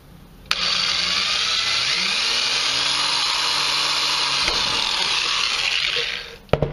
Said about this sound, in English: We're just going to drill a hole in one of these holes here.